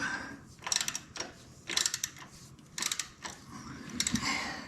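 A ratchet tightening the top motor mount on a 2001 Harley-Davidson Sportster, four short bursts of rapid metallic clicking at a steady pace, close but quiet.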